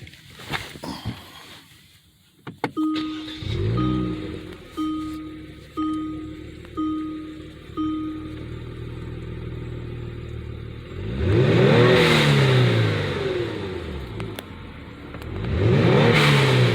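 Kia Stinger engine fitted with an ADD W1 twin blow-off valve, revving in a series of short repeated blips followed by two longer, louder rev surges with whooshing air release, heard close up without talk.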